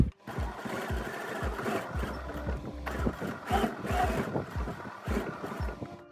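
Sewing machine running a zigzag stitch while finishing a kameez, a rapid steady mechanical thumping with a short pause partway, close and moderately quiet.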